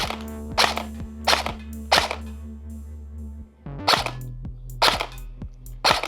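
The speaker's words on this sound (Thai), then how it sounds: "ลองยิงดูก่อนนะครับผม" A Cyma M4 electric gel blaster fires in short bursts, sharp rapid cracks with a motor whir under each burst, about seven bursts in quick succession, close and loud with no talking.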